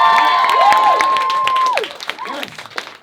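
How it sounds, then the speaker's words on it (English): A theatre audience at a Peckham performance applauds an act, with steady, dense clapping and a sustained ringing tone over it. The clapping then thins into scattered claps as it fades. "Can we have another round of applause for Tariq?"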